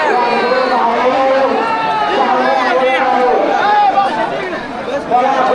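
Dense crowd chatter at a busy village fair on a day with a wrestling event and a performance, many overlapping voices close and loud in a constant babble.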